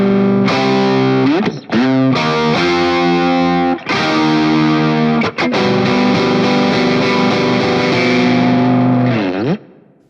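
A distorted rock electric guitar tone from a Fractal amp modeler, playing loud sustained chords with a few quick changes, thick and saturated, ringing out before cutting off at the end, with no talking.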